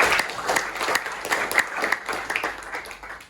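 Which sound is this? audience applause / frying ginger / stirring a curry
audience applause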